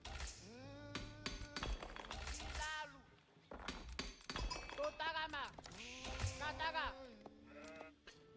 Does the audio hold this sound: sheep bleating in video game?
yes